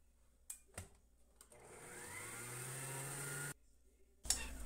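An electric stand mixer whirs steadily as it blends homemade cappuccino ingredients, running for about two seconds after a few short clicks and bursts. It stops abruptly, then starts up again near the end.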